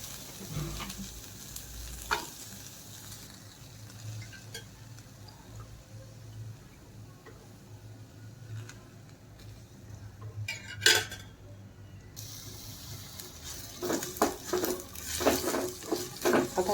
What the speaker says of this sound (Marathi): आता यामध्ये मी कांदा टाकत आहे कांदाही छान परतून घ्यायचा आहे थोडंसं तेल टाकून